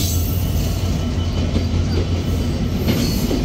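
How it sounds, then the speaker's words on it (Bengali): The Benapole Express, hauled by 6600-series locomotive 6624 with CRRC coaches, rumbles past loudly and close, with steady clattering wheels over rail joints and a continuous heavy roar. "6600 সিরিজের লোকোমোটিভের সাথে সিআরআরসি কোচের বেনাপোল এক্সপ্রেস, আর লোকোমোটিভ নাম্বার 6624"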